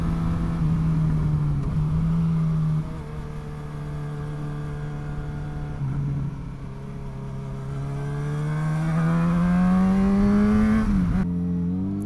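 A car accelerates gently out of a set of corners, a steady droning engine hum heard from inside that dips briefly, then climbs smoothly in pitch and loudness before easing off at the end.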